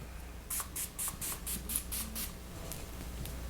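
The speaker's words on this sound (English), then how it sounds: "I'm going to show you the mister. It's very fine mist." A fine facial setting mist sprayer gives about eight quick hissing spritzes in a steady rhythm, close and fairly soft, then stops.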